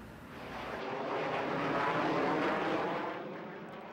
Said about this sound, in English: The jet noise doesn't bother me.